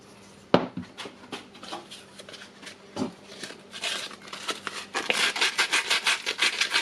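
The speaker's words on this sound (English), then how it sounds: "Now I will clean the armature commutator a little bit with the sanding paper." Sandpaper rubbed against the armature commutator of a Makita 18V brushless angle grinder (DGA504/XAG03), a few sharp knocks followed by rhythmic scratchy back-and-forth scrubbing strokes that grow quicker and louder toward the end, close up.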